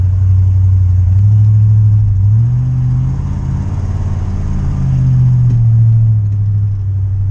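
A pickup truck engine revs hard in first gear while driving, a loud steady low rumble that rises and falls as the RPMs climb, heard from inside the cab with no talking.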